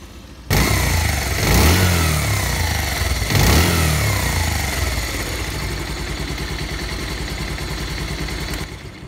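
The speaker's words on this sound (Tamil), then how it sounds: "என்ஜின் ரெஸ்பான்ஸ் எப்படி இருக்குன்னு செக் பண்ணிக்கோங்க." A motorcycle engine tuned through its carburettor revs sharply twice near the start, then settles into a steady, loud idle close by until it cuts off at the end.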